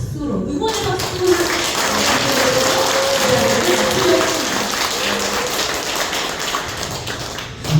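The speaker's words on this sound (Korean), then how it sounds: "우리 작가님께 큰 박수로 응원의 박수를" Audience at a book concert clapping for the author, dense sustained applause filling the room, with some voices blended underneath.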